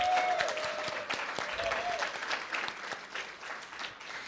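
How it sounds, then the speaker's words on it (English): Applause from an audience at a reception, a dense, steady patter of many hands clapping that gradually eases off, with faint voices underneath. "I'll do one last round of applause for everybody."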